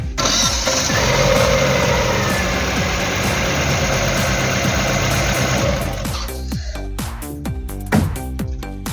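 A Chevrolet Kalos 1.4 16V F14D3 engine, misfiring with a suspected faulty third cylinder, cranks, catches and runs roughly with an uneven, stumbling idle before cutting out into a few sputtering knocks.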